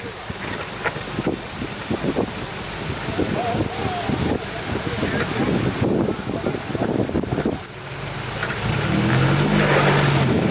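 An off-road vehicle crawls over an obstacle, its engine a steady low drone under heavy wind buffeting, while a spotter gives directions nearby; the drone swells near the end.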